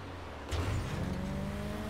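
Racing car engine in Grand Theft Auto V swells in suddenly after a quiet moment, then holds a loud, steady drone as the car accelerates through a race.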